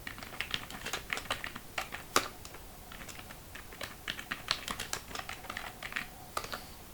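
Rapid typing on a computer keyboard while filling in a spreadsheet, with irregular bursts of close, crisp key clicks and a sharper keystroke partway through, no voices.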